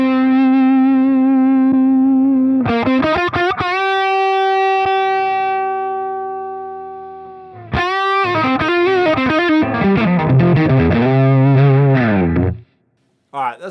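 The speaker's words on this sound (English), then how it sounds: "let's turn the gain down, like a edge of breakup kind of sound." Electric guitar played through the Neural DSP Archetype Abasi amp plugin with the gain turned down to an edge-of-breakup tone, chorus-tinged sustained chords and bends ringing out with a brief pause, then busier lines, loud and alone.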